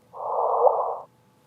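Sonified gravitational waves from two black holes colliding: a single hissing burst about a second long with a faint brief upward chirp near its end, standing alone.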